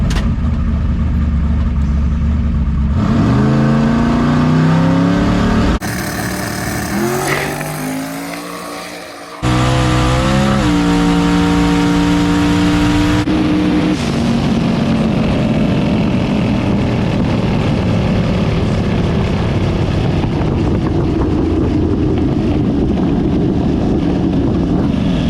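A drag racing truck fitted with new twin turbos launches down the track, its engine roaring loudly and steadily with shifting pitch as it accelerates away, then a sustained rumble trailing off, with wind buffeting the microphone.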